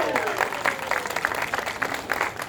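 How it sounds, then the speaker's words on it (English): An audience at a Bristol circus freak show claps for a volunteer striking a pose, a busy patter of hands filling the whole stretch at moderate loudness. "Give her a round of applause"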